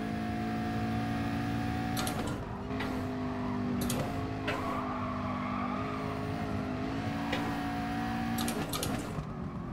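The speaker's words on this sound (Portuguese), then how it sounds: "rodou, bateu a traseira, quebrou" In a racing video game at Interlagos, a race car engine drones and shifts pitch as the car spins, with scrapes and impact clatters as the rear strikes a barrier, steady engine tones under brief bangs.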